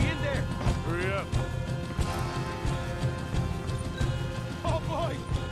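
Horses in Red Dead Redemption 2 trot with steady clip-clop hooves and whinny a few times, close and fairly loud, as people talk over them.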